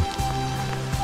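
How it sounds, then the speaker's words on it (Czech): Rain falls steadily in foggy Peruvian mountains near Machu Picchu, a continuous soft patter with a few louder drops, close by and without speech. "Začíná nám zase pršet a je mlha."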